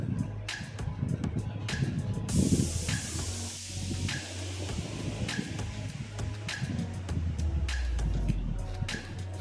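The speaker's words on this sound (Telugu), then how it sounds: "ముందుగా ఫ్రై చేసి పెట్టుకున్న చికెన్ పీసెస్ని తీసుకొని ఆ గ్రేవీలో వేసుకోవాలి." Fried Chicken 65 pieces drop into hot gravy in a pan, setting off a sudden burst of hissing sizzle that fades after a couple of seconds. Clinks and scraping follow, with a faint voice in the background.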